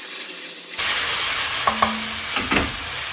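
Loud, steady sizzle of onions, ginger and garlic frying on high heat in a single pot, with a few scraping stirs and clicks of a utensil against the pan, close up and without voices.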